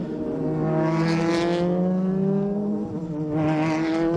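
2006 Super GT race cars, including the Epson NSX, coming down the hill at SUGO: high, droning engine notes shifting in pitch as cars pass at a distance, two louder surges with a steady roar between.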